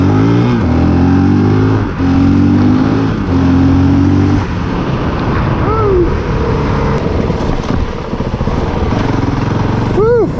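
A Honda CRF450L dual sport motorcycle engine revs loudly and close by in several rising pulls, then settles into a rough, busy running sound with broadband noise.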